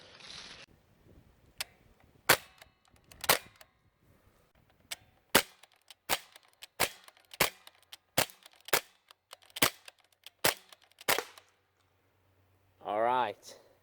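Uzi-style CO2 airgun fired repeatedly, first without a silencer and then with one, giving about a dozen sharp, loud cracks in an uneven rhythm with quiet gaps between them, followed by a brief whirring burst at the end.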